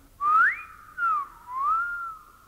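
A person whistles a short tune alone, three clear sliding phrases, the first rising, then a dip and a longer wavering note, close and loud against quiet background.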